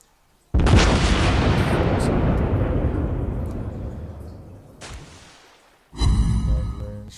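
Long-range naval gun salvos in World of Warships Blitz, a heavy booming blast with a long rumbling decay, a faint follow-up thud, then another loud roaring shot.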